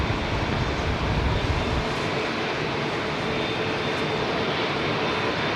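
A jet airliner takes off at London Heathrow Airport, its engines a loud, steady broadband roar with heavier low rumble at first, continuous throughout with no talking.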